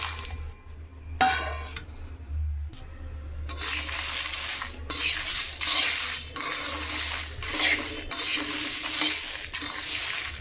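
Fenugreek, mustard seeds, cumin and Guntur red chillies being dry roasted in a pan for sambar powder, with repeated close scraping and stirring of the spice mix against the metal and a low steady hum underneath.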